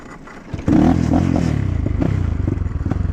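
A poorly tuned Geon GNS 300 motorcycle engine starts up and runs, giving a close, loud, rough pulsing chug with rattly clatter that settles into an even throb.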